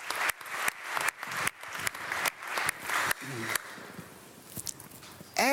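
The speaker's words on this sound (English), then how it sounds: "Please give a big hand to Luis as well." Audience at a hotel-industry technology conference claps for a speaker, a steady burst of many hands under a room's murmur, tapering off after a few seconds.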